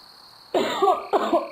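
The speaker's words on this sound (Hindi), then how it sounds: "माँ जी के कमरे से खांसी की आवाज आ रही है मुझे तो" An elderly woman in an animated story coughs twice, harsh, close bursts after a short quiet lead-in.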